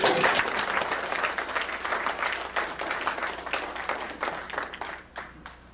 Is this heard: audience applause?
yes